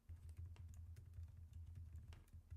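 Quick irregular keystrokes on a computer keyboard during a Matplotlib coding session, close and clear, tapping alone without talk over a low background hum.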